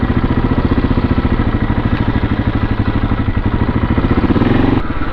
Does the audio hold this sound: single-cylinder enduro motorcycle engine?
yes